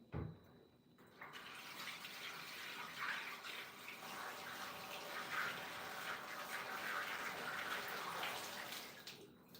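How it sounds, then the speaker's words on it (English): Water runs steadily from a tap for about eight seconds at moderate volume as leftover soft pork tissue is dipped into it in a home kitchen, beginning after a brief moment of quiet. "I'm just going to dip it in water"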